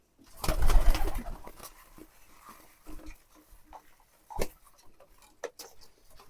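Pet pigeons coo and flutter nearby, with a burst of wing-flapping at the start followed by scattered soft coos and small taps, with no talk.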